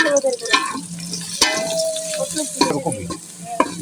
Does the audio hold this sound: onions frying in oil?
yes